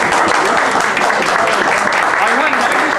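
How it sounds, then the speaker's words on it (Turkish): Dense, loud applause from a crowd at a 35th-anniversary reunion of Pertevniyal High School's class of 1971. It fills the whole stretch as a steady roar of many hands, with no gaps. "Alkışlar, alkışlar."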